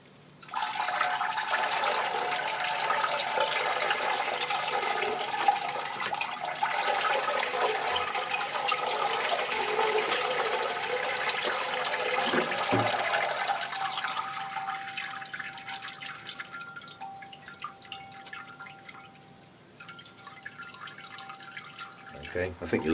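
Pure RO water poured through a potted orchid, a steady rushing splash and gurgle of water draining through the pot that continues for most of the stretch, then gives way to quieter trickles and drips; a person talks over it.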